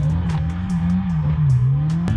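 A race car laps a track in Assetto Corsa, the engine note holding a steady loud drone with slight pitch swells, joined by short tire chirps and a brief sharp squeal near the end.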